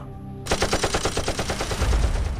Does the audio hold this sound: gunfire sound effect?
yes